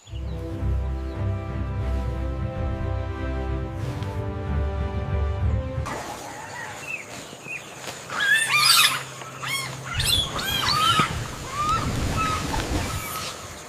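Birds chirp in short bright bursts over a wash of surf-like background, with a soft musical bed before it, setting an outdoor scene in a Tamil children's story about a little elephant.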